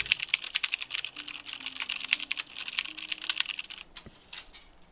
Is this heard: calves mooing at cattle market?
no